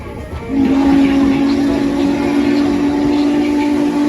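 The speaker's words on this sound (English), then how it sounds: "That locomotive up front will burn up to a half-ton of coal in this round trip" Norfolk & Western 611, a coal-burning steam locomotive on the Strasburg Railroad in Lancaster County, sounds a loud, steady whistle that swells in after a brief lead-in and holds continuously over rumbling train noise.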